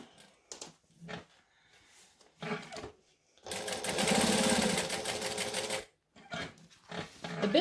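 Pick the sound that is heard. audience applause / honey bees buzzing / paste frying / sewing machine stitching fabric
sewing machine stitching fabric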